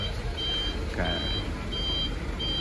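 Trucks at an Indonesian port depart for a ferry to Lembata, a vehicle reversing alarm beeping in repeated pulses above a constant engine and harbor rumble, with a brief voice in the middle.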